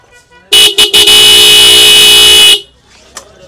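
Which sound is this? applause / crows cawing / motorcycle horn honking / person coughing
motorcycle horn honking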